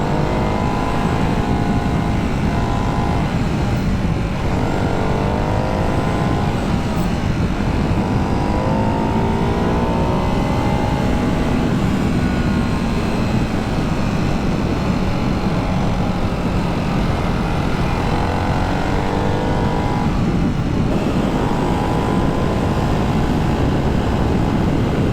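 A Ducati 698 Hypermotard motorcycle engine drones continuously while riding on a road, loud and close, its pitch rising and falling through gear changes, with heavy wind rush throughout.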